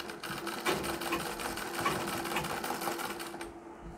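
A sewing machine runs steadily, stitching a Marathi-style saree, its rapid needle chatter continuous and close before stopping near the end.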